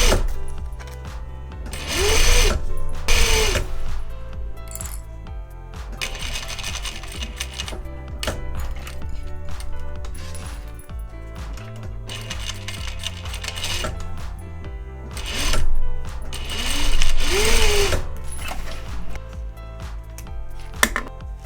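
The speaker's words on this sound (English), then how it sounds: "And now I'm going to stitch along that line and this short edge here." A sewing machine stitches along the seams of a mini tote bag in several bursts, its rapid needle clatter rising and stopping close by between short pauses.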